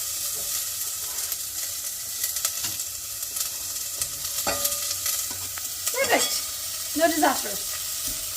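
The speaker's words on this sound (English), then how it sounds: "a extra large garlic clove, and we're gonna go ahead and saute this in our pan" An extra large garlic clove sautes in olive oil in a pan while onions cook for taco night, a steady soft sizzle with occasional stirring scrapes under brief talk.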